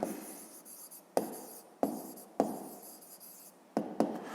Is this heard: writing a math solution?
yes